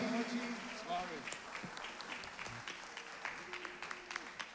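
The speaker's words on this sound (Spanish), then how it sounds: "Aplauso fuerte para Buddy." Scattered applause and crowd noise at a 2021 tribute event sound under a voice speaking, with bursts of clapping that rise and fall around the talk.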